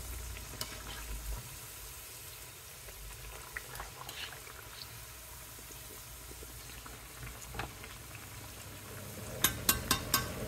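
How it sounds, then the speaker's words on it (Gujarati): Maru bhajiya, Kenyan potato fritters in a rice-flour batter, bubble and fry in hot oil with a steady low sizzle and soft popping, growing louder near the end. "તમે જો કેટલા ફાઇન આમ અંદર તરે છે જાણે પાણીમાં સ્વિમિંગ કરતા હોય."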